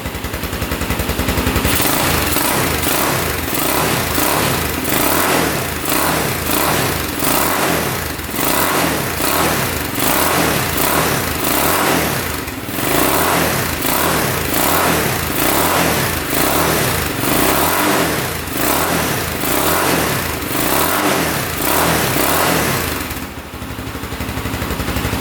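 A repaired quad ATV engine runs continuously for about twenty-five seconds with a loud, rapid, chattering exhaust beat, close by and steady before tapering briefly near the end.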